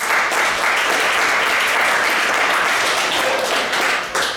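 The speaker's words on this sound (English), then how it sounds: "So let's all give ourselves a round of applause." An audience at a talk gives a full, sustained round of applause, loud and even from start to finish and tapering slightly near the end.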